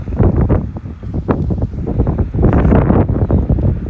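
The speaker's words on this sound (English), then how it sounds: "This is pretty windy over here." Wind buffets an outdoor microphone in a loud, continuous roar with rumbling gusts that swell and ease throughout, and no voices are heard.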